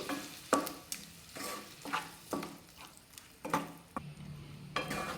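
Palak (spinach) gravy is stirred in a pan with a spoon, making repeated scraping, slapping strokes about once a second over a low, quiet sizzle.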